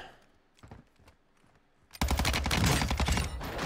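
Rapid revolver fire in the Call of Duty Warzone video game, a sharp dense burst of loud, close shots that erupts after a quieter stretch of faint clicks and scattered pops.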